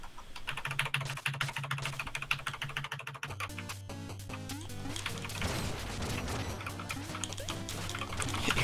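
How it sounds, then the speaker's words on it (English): Rapid, loud clattering of a computer keyboard being mashed during a fast Shovel Knight: Plague of Shadows platformer run, dense key strikes continuing throughout over a steady game soundtrack. "Keyboard's so loud."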